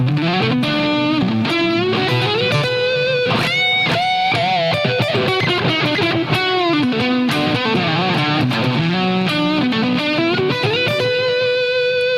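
Electric guitar played on the neck pickup through a Line 6 Helix with distortion on, a loud, sustained driven melodic line with bends and long ringing notes, no talking.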